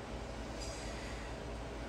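A train rumbles past with a steady, muffled low roar and dense rolling rail noise throughout, faint and distant-sounding.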